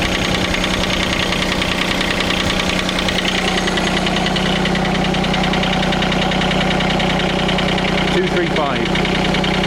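The engine of a John Deere X750 lawn tractor idles steadily while warming up, with a close, even knocking rumble and a brief rustle near the end.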